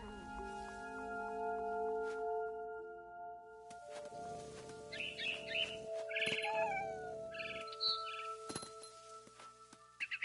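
A cat meowing in the game What Remains of Edith Finch, several short mews rising over a sustained musical drone, followed by faint chirps and clicks near the end.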